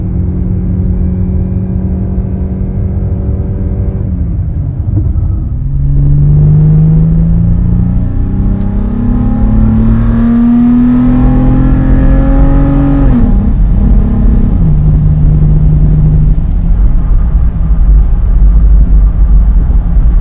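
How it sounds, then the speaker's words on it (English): A 2022 Lexus RX350 with its 2GR V6 at full throttle, heard from inside the cabin as a loud, steady drone rising in pitch through the gears, with brief dips at shifts. "So this is full throttle in the 2GR."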